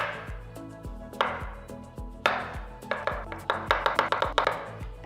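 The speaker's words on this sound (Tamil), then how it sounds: "ரெண்டு வாழைப்பழத்தை நல்ல பொடியாக நறுக்கியிருக்கேன்." A knife finely chopping two bananas on a board for a Tamil snack recipe, a run of close, crisp knocks that speed up into quick repeated cuts.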